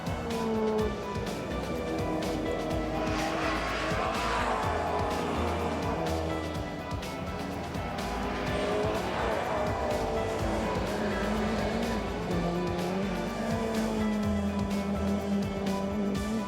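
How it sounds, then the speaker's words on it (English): Mini rallycross cars race around a British Rallycross Championship track, engines revving and droning continuously at moderate distance as they pass, with no clear tire squeal. "Great action as always from these memory-evoking cars."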